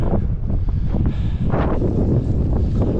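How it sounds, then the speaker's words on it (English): Strong wind gusts buffet the microphone on an open hillside during paragliding as snow weather approaches, a steady loud low rumble with surging gusts throughout and no talk. "And all of a sudden the wind has really picked up."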